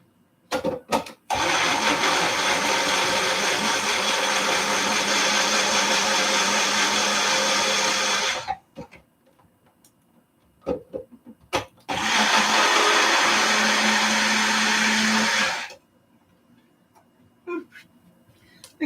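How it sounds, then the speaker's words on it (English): An electric mixer whirs through a noodle pie batter of ramen, running in two sustained bursts of about eight and four seconds with brief knocks and handling noises between them. "And I'm going to mix that all up"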